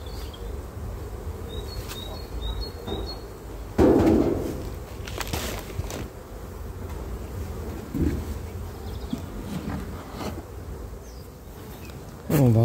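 Honey bees buzzing around beehives in an apiary, a steady low hum of many insects with occasional closer passes, broken by brief knocks and handling noises and a faint bird chirp.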